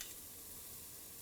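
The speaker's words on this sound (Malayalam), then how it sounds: "സവോള നന്നായിട്ട് വാടിയിട്ടുണ്ട്. ഇതിലോട്ടിനി നമ്മൾ കട്ട് ചെയ്ത് വെച്ചിരിക്കുന്ന ഇഞ്ചി," Onion sizzles and fries in a pan as ginger goes in, giving a quiet, steady crackling hiss with no voices.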